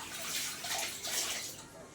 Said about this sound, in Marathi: हंड्यामध्ये आणि माठामध्ये पाणी ओतते